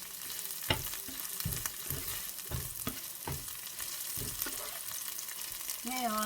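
Tofu fries in a pan with shrimp paste, giving a continuous soft sizzle punctuated by regular scraping stir strokes roughly every half second. A brief tonal sound appears right at the end.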